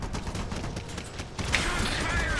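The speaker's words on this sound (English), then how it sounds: "And due to the Kaiser machine guns, which honestly I've never noticed before" Kaiser machine guns in the video game Iron Harvest fire in dense rapid bursts, a continuous crackling barrage of battle noise with a brighter surge of shots in the second half and no talk.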